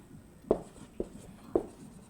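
Pen or chalk writing on a board or paper: three short, distinct taps and strokes spaced about half a second apart over a quiet, faintly noisy background.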